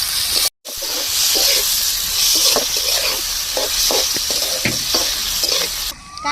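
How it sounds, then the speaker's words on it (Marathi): Onion tempering (phodni) sizzling and frying in hot oil in a pan while being stirred, a steady close hiss with scraping stir strokes throughout and a brief cutout near the start. "मस्त फोडणी बसली"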